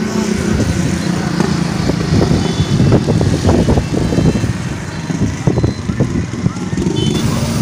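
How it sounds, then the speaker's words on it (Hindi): A Suzuki Mehran car approaches outdoors with a steady, rumbling engine and road noise that builds gradually, accompanied by wind and background voices. "ये हमारी गाड़ी आ रही है मेहरान"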